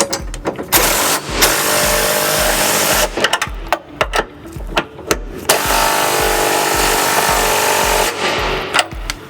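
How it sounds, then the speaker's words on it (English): A ratchet with a 19mm socket and extension snugs flange nuts on a 2003 Buick Rendezvous during trailer hitch installation, producing loud, close bursts of rapid clicking separated by short pauses. "we need to go ahead and snug up these flange nuts with a 19mm socket and extension"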